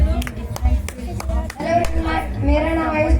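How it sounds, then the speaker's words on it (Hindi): Children and adults clap for a boy about to recite a poem at a coaching class's Gandhi Jayanti celebration, sharp claps scattered at first, then thickening into steadier applause with voices chattering underneath. "तालियां"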